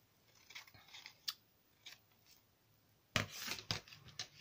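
Soft, close snips of scissors cutting ribbon, a few scattered crisp cuts followed by a quicker burst of rustling snips near the end, faint and quiet overall.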